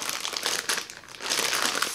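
A plastic zip bag holding beef jerky in marinade is sealed, giving close crinkling and rustling of plastic in two short bursts.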